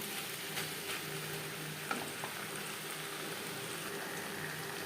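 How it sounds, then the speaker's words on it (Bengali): Snake gourd (chichinga) stir-fried in a pan over a gas flame gives a steady, moderate sizzle with faint scraping of stirring and a few soft clicks, no voices. "হাই টু মিডিয়াম ফ্লেমে আরও দু তিন মিনিট নাড়াচাড়া করে দেব"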